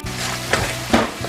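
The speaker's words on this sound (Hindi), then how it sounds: "मीडियम हीट पे हम इसको कर लेंगे और इसको भी 1 से 2 मिनट तक पका लेंगे मसालों को" Garam masala, coriander powder and red chilli powder cook in a pan over medium heat for Indian-style masala macaroni, giving a steady close sizzle with a couple of brief stirring scrapes.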